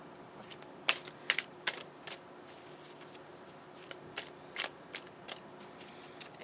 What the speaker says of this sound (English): we're going to give it a great big shuffle